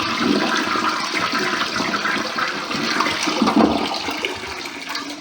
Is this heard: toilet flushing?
yes